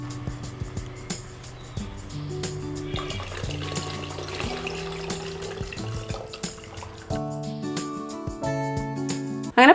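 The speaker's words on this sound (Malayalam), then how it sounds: "കുറച്ചും കൂടെ നമുക്ക് ഒഴിച്ചു കൊടുക്കാം വെള്ളം." Water pours into tamarind in a pot for Kerala rasam, a steady splashing trickle that runs continuously amid kitchen clinks, with no voices over it.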